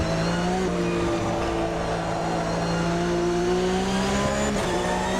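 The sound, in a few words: race car braking with left rear tire dropping off track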